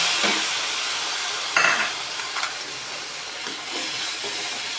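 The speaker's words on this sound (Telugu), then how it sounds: "నెక్స్ట్ ఈ ములక్కాడ ముక్కలేమో ఇలా వేసిద్దామండి" Drumstick pieces sizzle in a pan of curry, a steady soft hiss with a few louder bursts as they are added and stirred.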